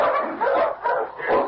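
Sled dogs at a Yukon settlement bark and yip in a quick run of several sharp calls, close and fairly loud, with some whimpering mixed in.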